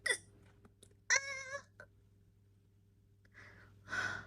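A girl hiccups a few times in short, sharp, voiced bursts separated by pauses, each one loud and close.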